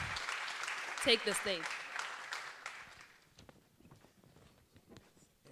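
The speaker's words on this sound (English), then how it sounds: "A big round of applause for them as they" Applause from a literary festival audience as authors take the stage, broad clapping over the first three seconds under a presenter's voice, then fading to scattered claps.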